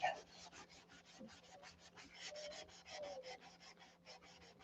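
Hand sanding on wood: quick, even back-and-forth rasping strokes repeat in a steady rhythm, close up, with no talking.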